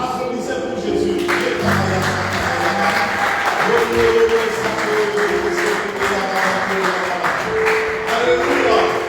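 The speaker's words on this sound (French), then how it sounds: "Applaudissez pour Jésus" A French-speaking church congregation applauds during a sermon, steady clapping heard over sustained music and some voices.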